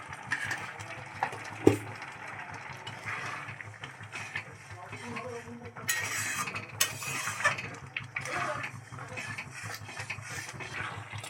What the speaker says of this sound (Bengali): নুন এবং মিষ্টিটা খুব ভালোভাবে গাজর এবং দুধের সঙ্গে নেড়েচেড়ে মিশিয়ে নিলাম